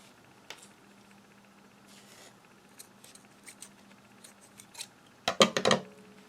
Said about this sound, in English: Guess I need some new scissors